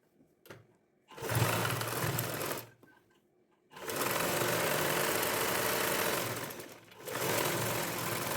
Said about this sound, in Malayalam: അങ്ങനെ ഞാനിവിടെ രണ്ട് സൈഡും സ്റ്റിച്ച് ചെയ്ത് കൊടുത്തിട്ടുണ്ട്